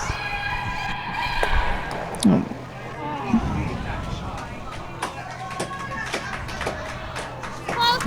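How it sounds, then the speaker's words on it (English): Scattered spectator applause breaks out at a mixed curling championship match, light and somewhat distant, under commentators talking and arena crowd murmur. "All that clapping."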